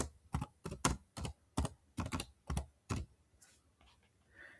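A task title is typed on a computer keyboard as a series of distinct, fairly loud key taps, about ten strokes in an uneven rhythm, followed by a quieter trailing moment.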